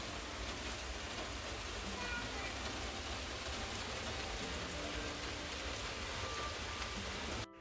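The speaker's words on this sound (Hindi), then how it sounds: "बारिश जो है ना बहुत तेज start हो गई है बाहर।" Heavy rain falls outside in Kilkenny, Ireland, a dense, even roar of drops heard steadily and alone until it cuts off at the end.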